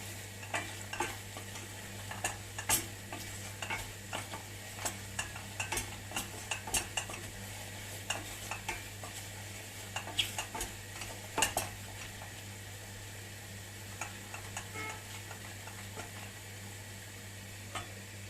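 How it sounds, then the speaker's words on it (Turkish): Flour is stirred and roasted in a pot for creamy mushroom soup, a soft low sizzle under repeated clinks and scrapes of a spoon against the pot, close and fairly quiet; no speech. "Unla birlikte bir güzel kavuralım arkadaşlar. Unumuzun kokusu çıkıncaya kadar."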